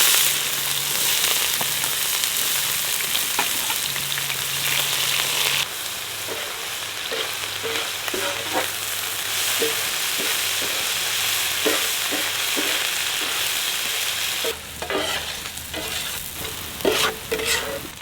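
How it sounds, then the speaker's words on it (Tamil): Steady oil sizzle of onions frying, with intermittent stirring scrapes and clinks throughout, loud and close, no voices. "அடுத்தது நறுக்கி வச்ச வெங்காயத்தை போட்டுக்க போகிறோம்"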